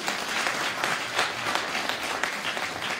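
Church congregation at a convention breaking into sustained, dense applause, a steady wash of many hands clapping close by, with no voices rising above it.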